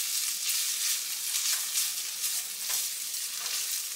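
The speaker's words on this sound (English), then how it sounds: "Also gonna be adding in some minced garlic. Give this a good stir." Minced garlic and Italian seasoning sizzle steadily in a frying pan as they are stirred, a dense, even crackle with soft scraping pulses running throughout.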